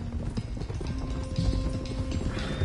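Horses' hooves clip-clop steadily on a trail in the Red Dead Redemption 2 video game, a continuous rhythmic trot under faint background ambience at moderate volume.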